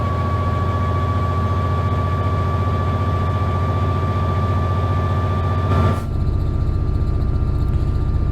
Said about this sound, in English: So let's go full power, and you can hear the rumble of that EMD engine.